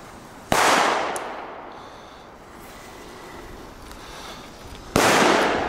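Two very loud Belgian firecrackers explode about four seconds apart, each a sharp close crack with a long reverberant tail, and a quiet outdoor hush lies between them.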